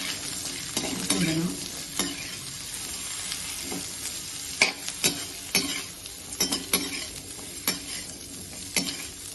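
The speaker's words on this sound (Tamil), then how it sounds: "இப்போது இதோட புடலங்காயை சேர்க்கலாம்." Snake gourd stir-fried in a pan with curry leaves for a Tamil poriyal, sizzling steadily while a spoon scrapes and stirs in repeated sharp clinks over the frying hiss.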